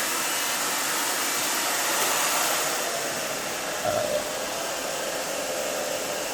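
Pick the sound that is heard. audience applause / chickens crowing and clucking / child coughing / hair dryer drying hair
hair dryer drying hair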